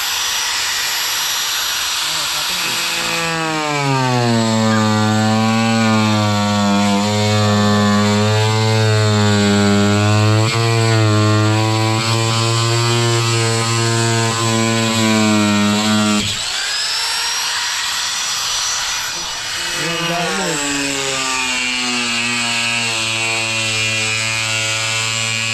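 A power sanding tool grinds against floor tiles, a loud whining drone that rises in pitch, holds for about twelve seconds, cuts out and then starts up again, close by.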